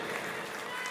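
Applause from an audience in an auditorium during a literary gathering, a dense, steady patter of many hands filling the whole second at moderate loudness.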